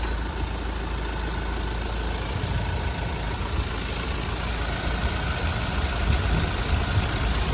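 A 2019 Mahindra Scorpio diesel engine idles continuously with a low even rumble, steady and smooth, no talking, holding the same level throughout.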